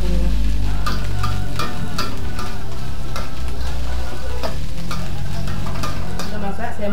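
Tempeh and palm heart being stirred in a frying pan, a steady sizzle of hot oil with repeated scraping and clatter of the utensil against the pan, loud and close, with no talking.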